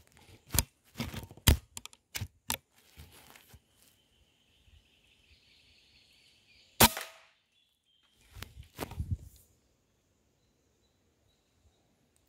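Sharp crack of a Fox PR900 air rifle fired at doves through tree branches outdoors, a single loud report standing out among several smaller clicks and rustles, followed by scattered bird twitters and a later burst of handling noise.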